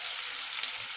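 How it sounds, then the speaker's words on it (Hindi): Chopped onions sizzle and fry in a hot pan with a steady, dense crackling hiss, close and even throughout, with no voices. "और प्याज को मैं भून लूंगी, प्याज को मैं ज्यादा ब्राउन नहीं करूंगी।"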